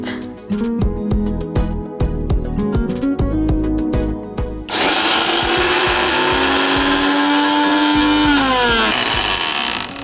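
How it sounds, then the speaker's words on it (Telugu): A mixer grinder whirs loudly and steadily after a stretch of clattering, rattling knocks, its motor hum holding close and continuous to the end. "మిక్సీ మాత్రం మీరే చేసుకుని వచ్చేయండి"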